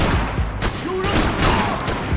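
Gunfire in the video game Max Payne 3, a dense burst of shots crackling over a busy game soundscape, with rapid repeated cracks and a loud steady level throughout the short span.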